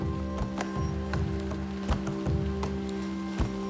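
Heavy rain pouring down in the forest of Tadoba National Park, a dense, constant patter with regular louder thumps of drops striking close by, under a low engine-like drone.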